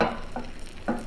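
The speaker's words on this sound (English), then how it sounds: "Look at that nice little sizzle." Sole fish with basil aioli sizzling in a pan, a soft, close crackle with a few brief louder pops, heard alone.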